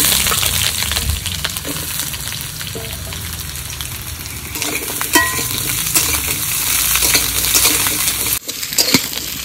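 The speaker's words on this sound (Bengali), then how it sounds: "3টে আলু নিয়েছি, লম্বা লম্বা করে কেটে নিয়েছি, ভেজে নেব।" Three large potatoes cut into long strips fry in hot oil, a loud, close, continuous sizzle with occasional crackles and spoon clinks.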